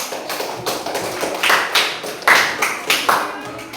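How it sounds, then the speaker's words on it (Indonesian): A small group claps in uneven, scattered bursts, close by, briefly and without much rhythm. "Tepuk tangan untuk kita semua."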